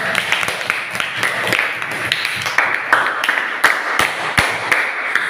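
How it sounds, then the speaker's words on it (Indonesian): Students in a dance and arts class clap together in steady, dense applause, with close, loud hand claps overlapping throughout and a few sharper slaps standing out, with no talking. "Tepuk tangan"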